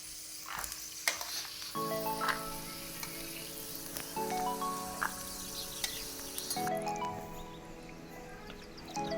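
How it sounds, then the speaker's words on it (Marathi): Peanuts sizzle and crackle in hot oil in a pan during upma preparation, a steady frying hiss with occasional stirring scrapes and small pops throughout, close and moderately loud with no talk. "शेंगदाणे व्यवस्थित असे फ्राय झालेले आहे"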